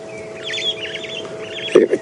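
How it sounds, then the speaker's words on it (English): Starlings on a safari drive at Djuma Game Reserve give short, wavering chirps and whistles at moderate distance, a few quick calls over a quiet background. "every time you can hear the starlings calling"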